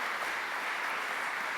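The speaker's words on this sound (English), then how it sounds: "Please give an applause" A short, steady burst of clapping from the audience at KTM's 2017 RC 16 MotoGP team presentation, heard fairly softly and continuously throughout.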